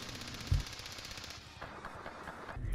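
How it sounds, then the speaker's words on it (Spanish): Rapid automatic fire from a P90 submachine gun at about 900 rounds per minute, heard as a dense, continuous rattle of shots with a few louder bursts near the start and end. "La P90 es usada por las fuerzas especiales y aquí una demostración de 900 disparos por minuto"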